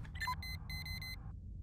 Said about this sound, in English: I hate that when it starts beeping like that.